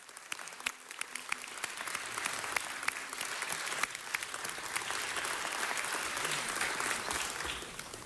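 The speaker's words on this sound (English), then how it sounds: "Let's give her it a up round of and a round of applause." Sustained audience applause fills a city council meeting chamber for a USGS seismologist, dense steady clapping that holds strong from start to finish without any talk over it.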